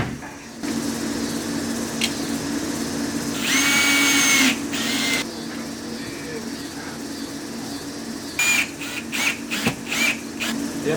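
A power drill drives long screws into the wall panels of a Ram Promaster van being built out, with short whirring bursts near the middle and a string of quick bursts toward the end over a constant background hum.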